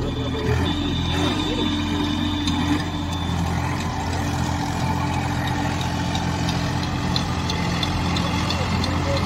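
A tractor engine idles steadily with a constant low rumble throughout, while people talk nearby.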